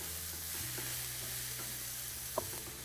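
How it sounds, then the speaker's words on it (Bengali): Vegetables with capsicum, black pepper and dark soy sauce are sautéed in a pan, giving a continuous soft sizzle under a low steady hum, with occasional light scrapes and one sharp knock of the spatula near the end. "এবারে সব ভেজিটেবলকে আপনারা ভালো করে সতে করে নিন"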